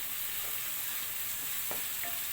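Fried spice masala for a beef tripe and potato curry sizzles steadily in a pan, a dense close hiss with a few faint scraping stirs from the spoon.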